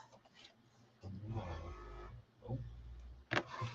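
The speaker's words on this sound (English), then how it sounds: "That funny noise is the printer." A mechanical whirring and grinding hum, like a printer feeding paper, rising and falling in bursts with a sharper clack near the end.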